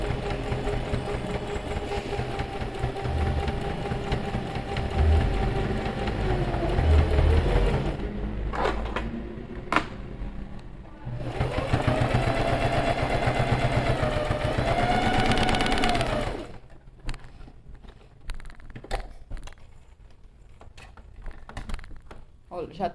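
A sewing machine stitches a quilted bag panel in long, fast, even runs, stopping and restarting between passes, with someone talking in the pauses.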